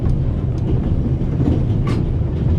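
Steady train-ride ambience from The Raven: Remastered video game: a low, continuous rumble of a rolling railway carriage with faint rattles, heard alone without talk.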